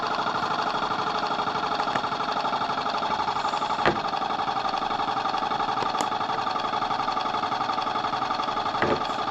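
A pump drives a decal-wrapping chamber, running as a continuous loud mechanical drone with a fast pulsing rattle and a few sharp clicks, close by, with no talking.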